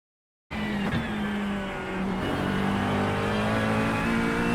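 Race car engine in a racing video game at the Bathurst circuit, revving and accelerating loudly and steadily, with a continuous close engine drone and rising pitch throughout, no talk over it.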